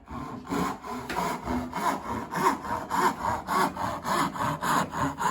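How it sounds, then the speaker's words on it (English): A dovetail saw cutting down a marked line in wood, close and loud, with steady rhythmic back-and-forth strokes of even pace. "I take my dovetail saw and I will very carefully saw down that line"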